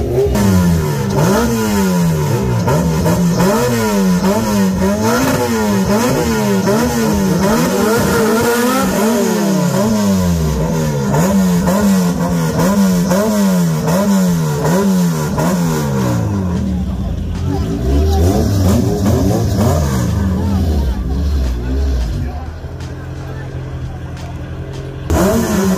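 Drag racing cars at a New Mexico drag strip rev and accelerate loudly, with the engine pitch climbing and falling in repeated sweeps before a hard pull away. Crowd chatter runs underneath.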